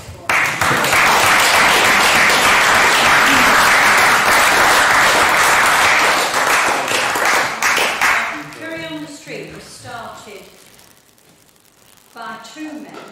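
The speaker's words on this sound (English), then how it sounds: "I think that deserves an applause for them." Applause at a Pendle Council full council meeting, loud sustained clapping from the chamber for about eight seconds before fading, after which a voice speaks.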